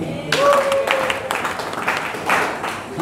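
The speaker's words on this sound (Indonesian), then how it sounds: "Tepuk tangan buat Pak Ferry." Applause from a seminar audience at a sales coaching event, steady clapping from many hands at moderate distance with a voice briefly heard among it.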